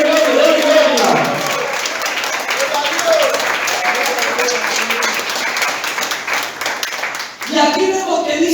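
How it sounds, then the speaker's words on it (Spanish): A church congregation applauds during a Spanish-language service, with steady, dense clapping that runs under continuous voices and a speaker's talk, sounding fairly close and loud throughout. "Aplaude y dele gloria."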